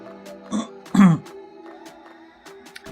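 A person clears their throat after eating fish and chips, making a couple of short, close, throaty rasps in a quiet indoor room.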